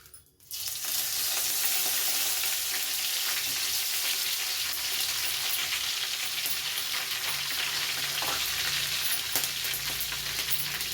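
Oil heats in a pan and bursts into a loud, continuous close sizzle that starts abruptly and holds steady throughout.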